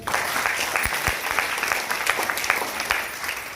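Loud, sustained applause from a seated audience at a motivational leadership talk, many hands clapping in a dense, even roar with a few sharper individual claps near the front.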